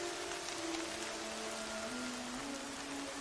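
Steady rain falls in the game Horizon Zero Dawn, a constant soft hiss of drops with a faint tonal hum underneath, no voices.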